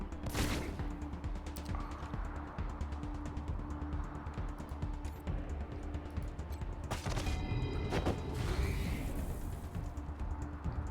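Gunshots in Wasteland 3, a sharp burst near the start, then scattered cracks and a louder flurry of rapid shots later, ringing over a constant game ambience.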